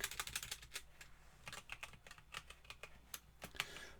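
Fast, uneven keystrokes on a computer keyboard during spreadsheet work, close and clear, in bursts of rapid clicks with brief pauses and no voice.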